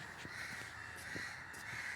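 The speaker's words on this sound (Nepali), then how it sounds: "चरा कराएको छन्।" Crows caw repeatedly in the distance near Bajrabarahi temple, faint and scattered, over a constant high-pitched background drone.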